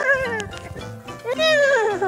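A man imitating a dog in a Pakistani TV comedy scene, with voiced barks, yips and whimpering yelps, loud and close.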